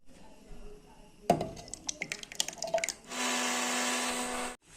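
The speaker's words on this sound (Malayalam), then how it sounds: "അപ്പം അതിന് ഈ തൈരിനെ ഒന്ന് മിക്സിയുടെ ജാറിൽ ഒഴിച്ചിട്ടൊന്ന് അടിച്ചെടുക്കുകയാണ്" Yogurt is blended in a kitchen mixer grinder jar: a run of clinks and handling knocks gives way to a steady, loud whir lasting over a second before it cuts off abruptly.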